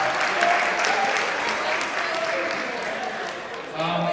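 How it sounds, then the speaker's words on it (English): A crowd at a high school sports banquet applauds the parents, grandparents and guardians with steady, full clapping, and a voice begins talking over it near the end. "So a round of applause for all of our parents, grandparents, guardians, everybody."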